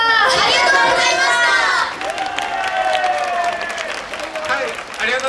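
Audience applause and cheering at a live outdoor idol stage show by the group Fairies at LaQua, steady clapping from a crowd with voices calling out over it and someone speaking amid the noise.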